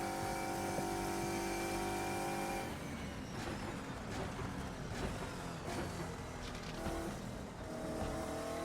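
Saleen / Shadow V8 race car lapping the Spa circuit in the Assetto Corsa racing game, a steady loud engine drone with a tonal whine that shifts into rougher, harsher revving partway through.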